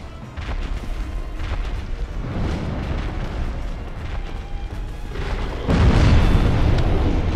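A boss's explosion attack in the video game Dark Souls: rumbling blasts and bursts rolling continuously, swelling into a heavy, louder boom near the end.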